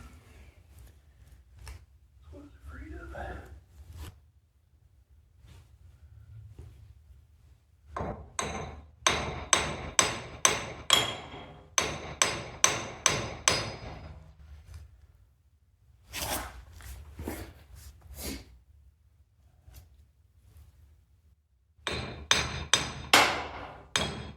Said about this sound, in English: This is probably going to require a little hammering to get this on as well.